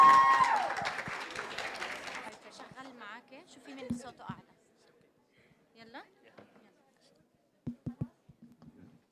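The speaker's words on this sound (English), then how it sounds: "Give her a very big applause" Audience applause at a STEM education conference, a dense wash of many hands clapping that fades out within a few seconds, followed by scattered faint knocks and handling noises as a speaker takes the stage.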